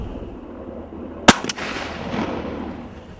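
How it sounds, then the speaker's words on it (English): A single shotgun blast fired at a plywood pattern board from 40 yards cracks sharply over outdoor background noise, followed by a quick echo and a fading rumble. "Now we're going to shoot from 40 yards, exactly twice the distance from where we started."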